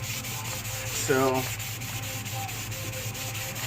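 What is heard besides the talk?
hand polishing metal trailing arm bushing surface back and forth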